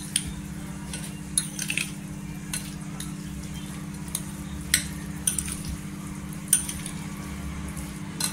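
A spoon mixes hot tempering into cooked potatoes, producing soft scraping and occasional light metallic clinks against the bowl over a steady low background hum.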